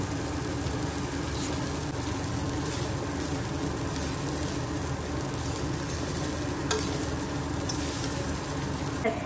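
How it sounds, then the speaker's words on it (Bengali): Soaked flattened rice (chira) is stirred through a hot pan, giving a dense, continuous sizzle with soft scraping throughout, loud and close. "এবার দিয়ে দেবো ধুয়ে রাখা চিড়ে"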